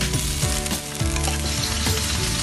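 Fried rice sizzles loudly in a hot pan, a dense, continuous crackle with a few scraping stirs of a spatula, close up and with no talking.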